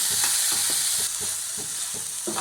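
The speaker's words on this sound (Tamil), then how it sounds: "நல்லா மசாலாவோடு சேர்த்து நல்லா கிளறிட்டேன்" Boiled raw banana pieces are stirred into masala frying in coconut oil, Kerala style, with rhythmic spoon scrapes and clacks in the pan over a steady sizzle.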